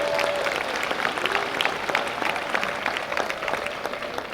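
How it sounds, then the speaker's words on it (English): Morning audience at an honors program on an outdoor stage applauding themselves, a steady mass of clapping with crisp individual claps throughout, moderately loud and continuous. "Give yourselves a round of applause for being here this morning."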